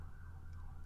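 Emergency sirens wail faintly in the background, a steady distant tone with low traffic rumble, short and with no talk.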